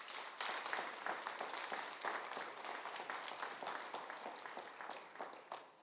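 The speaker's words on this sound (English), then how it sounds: "So round of applause for them as well" Polite audience applause at a community announcement, a steady patter of claps lasting several seconds before thinning out at the end, moderately distant and fairly quiet.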